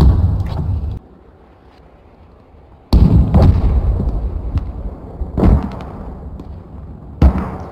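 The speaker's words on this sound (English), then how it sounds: "First volley was like a direct hit on their mortar tube." Artillery in the game Broken Arrow slams a volley onto an enemy mortar, heard as a loud opening blast, a low lull, then a heavy booming barrage with rumbling echoes and further sharp explosions.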